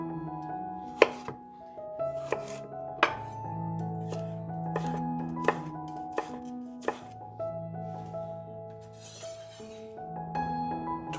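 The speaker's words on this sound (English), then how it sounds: "Slice them into strips like so." A knife slices stringless runner beans into strips on a cutting board, giving a series of sharp, close chopping knocks at an irregular pace, with faint clinks of kitchenware between the cuts.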